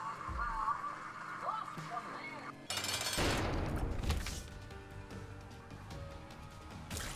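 A bomb blast in The Binding of Isaac: Rebirth, one sudden loud burst midway with a rumbling tail, set among busy game sounds and effects.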